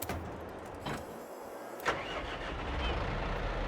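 A tractor engine in Farming Simulator 22 cranks with a couple of short starter bursts, then catches and settles into a steady mid-pitched idle that grows slightly louder, close up with no talking.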